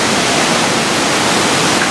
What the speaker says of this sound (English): get what I would consider the pleasure of this rushing water sound